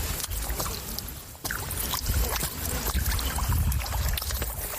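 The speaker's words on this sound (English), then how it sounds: "scoops up tilapia in a fishing net and dumps the fish into the bottom of his small wooden canoe, where they flap back and forth" Tilapia are dumped from a fishing net into the bottom of a small wooden canoe, giving close wet slaps, splashes and knocking thuds against the wood as the fish flap back and forth.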